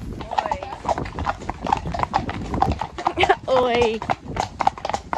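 Horse hooves clip-clop in a quick, uneven rhythm during a ride to a pub, close and clear, while a rider talks and calls out over them.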